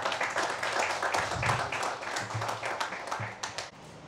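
Audience at a community service event honouring corona warriors claps in dense, steady applause for about four seconds, moderately loud and close, with faint voices mixed in.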